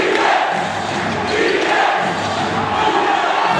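An indoor crowd roars and cheers at an MPBL basketball game between Sarangani and Pampanga. The noise is loud and dense, a sustained wall of shouting that swells slightly in waves.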